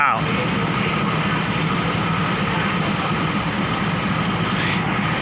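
A train engine accelerating, a steady heavy low rumble running throughout, loud and continuous, with a broad roaring wash above it and no clear change in pace.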